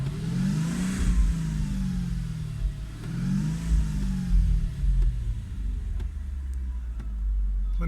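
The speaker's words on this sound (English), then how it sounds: "This is the V8. Give it a little bit of a rev." The V8 engine of a 2003 Mercedes-Benz CLK500, rated at 225 kilowatts, is revved twice up and back down, then settles into a low, steady idle rumble close by.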